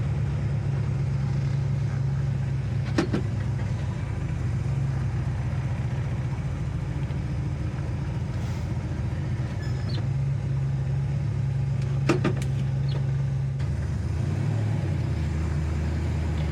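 A 1965 Chevelle SS convertible with a 327 V8 and four-speed idles in a steady, even rumble, with a couple of brief sharper clicks or blips partway through.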